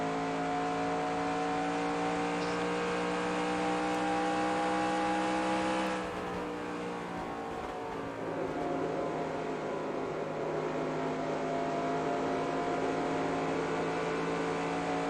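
Steady, sustained NASCAR race car engine drone from the NR2003 racing game during practice laps, holding a constant pitch with strong harmonics, then shifting and dipping briefly midway before settling back into an even, loud roar.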